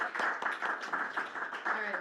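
Scattered clapping from a small group at a conference side event, brief and moderately loud, with faint voices mixed in.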